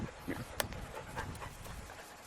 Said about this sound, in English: That panting in the background is Jen, not me